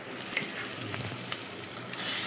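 Food frying on medium flame with a steady, soft sizzle and occasional scrapes of stirring in the pan, no talking.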